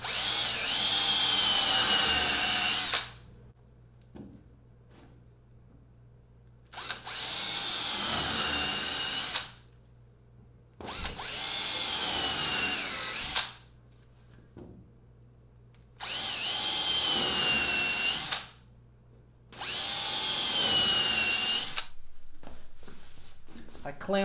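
A power drill bores a series of holes in a plywood boat transom for the motor mount, five sustained loud bursts of several seconds each separated by pauses with faint handling noises.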